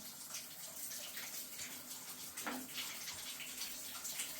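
Water runs steadily from a repaired shower mixer, a faint, continuous splashing flow with no talk.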